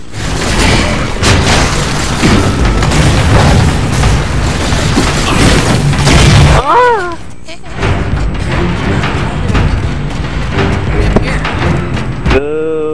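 Boltshot fire and heavy explosions from Halo 4 boom loudly in a dense, continuous barrage, then drop to a quieter game-ambience rumble with a few scattered thuds.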